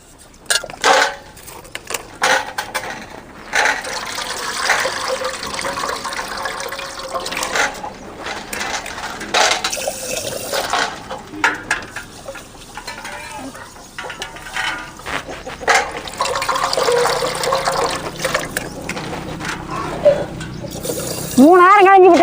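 Rice is rinsed by hand in water for masala coconut rice, with sloshing, swishing and pouring close by as a person talks over much of it.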